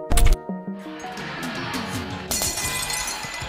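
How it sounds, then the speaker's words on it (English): A cartoon sound effect of a trophy falling to the floor and shattering: a loud sharp crash at the start, then a cascade of tinkling glass fragments and ringing clinks that swells again before trailing off. "She lost her grip on the trophy. It quickly fell to the floor, shattering into the nothingness that it was built upon."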